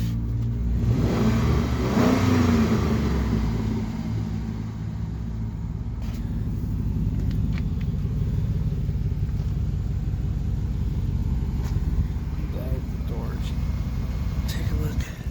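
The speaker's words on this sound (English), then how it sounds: "You can hear the motor here." A Chevrolet Avalanche truck's engine rumbles steadily up close, rising in a rev around the two-second mark before settling into a continuous low running drone, with a person talking faintly over it.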